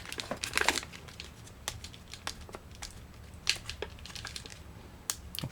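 A Star Wars Vintage Collection action figure card package being opened, with close crinkling of plastic and cardboard, short bursts of tearing and peeling tape, and scattered sharp crackles spread across several seconds.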